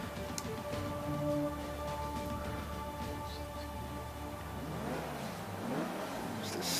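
Race car engines rev and accelerate in the Forza 5 racing game on Xbox One, a steady, rising mechanical drone that swells and shifts pitch without a break.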